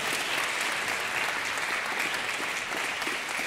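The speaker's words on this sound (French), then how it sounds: "Donc ça, on peut l'applaudir." A crowd at a taekwondo club applauds a European senior championship gold medalist, steady dense clapping from many people at an even level throughout, no voices over it.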